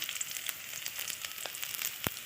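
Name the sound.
onions and tempering spices frying in oil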